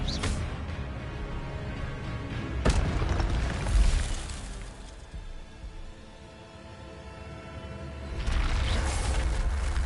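An Expelliarmus spell blast in Hogwarts Legacy, a deep booming burst that swells and fades, followed by a rumbling magical surge rising again at the end, with no talking.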